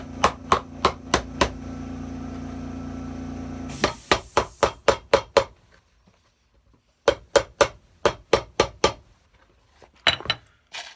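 Ring shank nails are hammered into the welt of an Allen Edmonds shoe during a full welt replacement: close, sharp metallic blows in quick bursts of four to six, separated by short pauses, with no talking.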